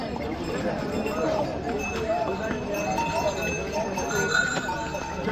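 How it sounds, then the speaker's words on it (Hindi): Horses' hooves clip-clop steadily along a crowded pilgrimage path on the Kedarnath Yatra trek, with occasional metallic clinks, under constant crowd chatter and nearby talking. "इधर से भी घोड़ा देख लो"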